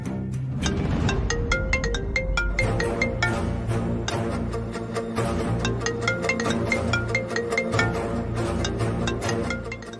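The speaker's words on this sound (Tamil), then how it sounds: "கௌதம் ஃபோன் பண்ணிட்டே இருக்காரு, ஏன் இன்னும் எடுக்காம இருக்கீங்க?" A mobile phone rings steadily with an incoming call, a loud melodic ringtone repeating its bright tune without pause and playing alone with no voices over it, in a Tamil television drama scene.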